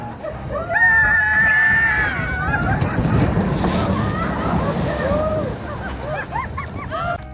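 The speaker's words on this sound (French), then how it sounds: "attendez-vous à une descente éclaboussante" Water rushing and splashing around a log flume boat at Walt Disney World's Princess and the Frog ride, a broad loud wash with wind noise, while a rider's voice rises in sustained screams and excited calls over it.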